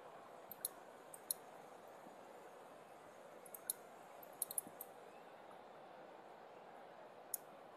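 Sparse, faint computer mouse clicks sound in a quiet room over low background hiss, single and double clicks scattered irregularly.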